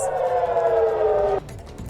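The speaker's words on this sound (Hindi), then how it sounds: "देर रात उत्तरी इजराइल में रॉकेट और मिसाइल हमले के सायरन बज रहे हैं" A loud, steady air raid siren warning of rocket and missile attacks in northern Israel wails on a sustained tone, then cuts off abruptly, leaving a quieter background hum.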